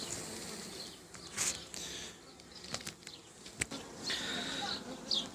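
Honeybees buzz around an open hive close by during an inspection, with wingbeats swelling and fading as individual bees pass near, over a soft, busy hum.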